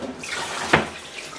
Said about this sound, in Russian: Ой-ой-ой, вода потекла.